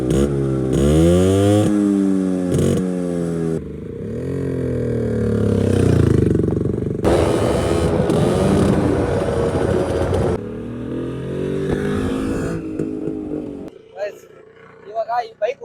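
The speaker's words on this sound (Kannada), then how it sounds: "ಇವಾಗ ಈ ಬೈಕ್ ಓಡಿಸ್ತಾ ಇದ್ದೀನಲ್ಲ" A Yezdi two-stroke motorcycle is ridden, its engine loud and close, rising and falling in pitch through repeated revs and gear changes, then dropping to a rough, uneven idle at the end.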